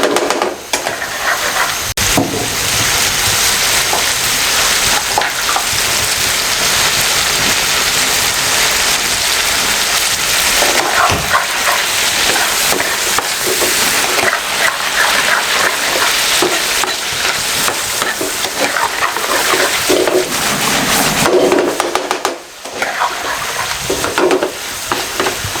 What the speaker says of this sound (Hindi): ये देखें बुनाई के टाइम 2-4 डाल दें, इसकी बुनाई कर लें।